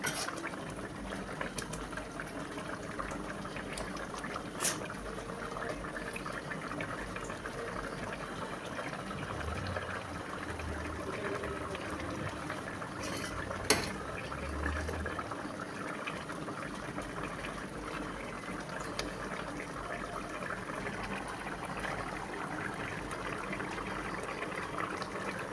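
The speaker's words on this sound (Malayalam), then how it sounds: "2 മിനിറ്റ് ഒന്ന് തിളച്ചോട്ടെ" A pot of pearl spot fish curry (mappas) bubbles steadily on the stove, a continuous soft boiling hiss with faint occasional clinks of cookware, close by and with no voices.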